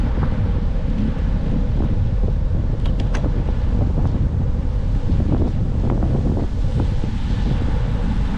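A north wind gusting across an open outdoor spot in autumn, steady loud buffeting roar against the microphone with a few faint clicks and knocks mixed in, no voices.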